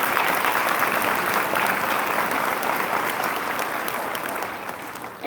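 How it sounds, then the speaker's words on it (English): Sustained applause from a crowd honoring graduates at a 2018 graduation ceremony, thick continuous clapping that holds steady and slowly eases off near the end. "all of you graduates deserve a big round of applause"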